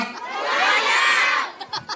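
A crowd at a political campaign rally in a Filipino district shouts loudly together on cue, a sustained roaring swell of mixed adult and children's voices that fades into scattered yells.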